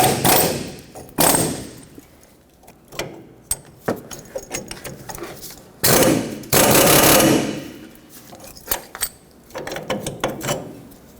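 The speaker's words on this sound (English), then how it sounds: "and then hammer the ball joint out." Repeated hard metallic hammer strikes on a front upper ball joint of a 1995-2004 Toyota Tacoma ring out at irregular intervals, some single and some in quick bursts, with mechanical clatter between them.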